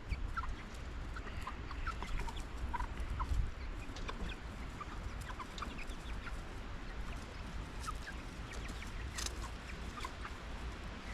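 Chickens cluck faintly and intermittently in an outdoor yard, with scattered soft bird calls over a steady low rumble of background noise and no talking.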